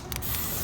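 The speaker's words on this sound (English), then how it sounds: "you may be inclined to spray some Pam on your skillet" Pam cooking spray hisses briefly from a can onto a skillet over fire, with a short sharp spray burst and a couple of quick puffs, fairly faint and close.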